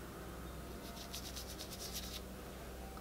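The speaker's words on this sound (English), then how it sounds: "I'll rub it a little bit right here if you can see." Sun Labs Tan Overnight self-tanning lotion being rubbed into skin, heard as faint, close, rapid soft rubbing strokes in a short burst over a low steady hiss.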